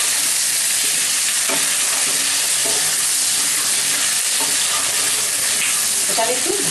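Potatoes stir-fry in a hot pan for a Bengali-style hilsa fish recipe, giving a loud, continuous sizzle with occasional scraping strokes of a spatula.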